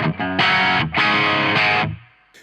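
A driven 60s-style rock guitar plays through a NUX Vox AC30-style amp pedal set to top boost mode: three loud, bright, crunchy chords ring one after another, then a brief decay and a faint click.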